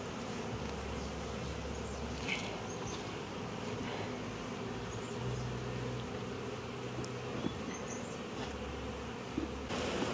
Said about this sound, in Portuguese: é muita abelha e o enxame é meio bravo